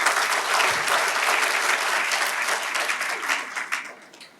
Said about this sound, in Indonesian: Beri tepuk tangan buat Tuhan Yesus Kristus.